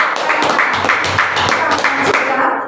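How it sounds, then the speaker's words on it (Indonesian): A group of children at a Christmas school performance clapping together, a steady dense patter of applause that stays loud and even throughout. "Tepuk tangan dulu untuk"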